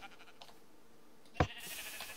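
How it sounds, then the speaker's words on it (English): Minecraft sheep giving a single short bleat, quiet and somewhat distant, over faint game background noise. "But I did hear a sheep, so let's go test that."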